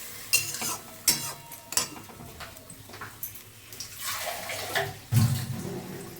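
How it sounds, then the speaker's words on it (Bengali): Water is poured into a pan of frying fish curry, splashing in several short bursts over a low sizzle, with a louder gush near the end, close up and with no talk. "এবার আমি এখানে জল অ্যাড করব।"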